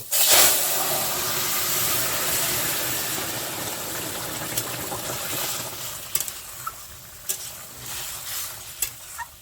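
Radhuni and cumin seeds sizzle and hiss steadily in hot oil as a tempering, with a sharp burst as they hit the pan and occasional stirring clinks and pops toward the end.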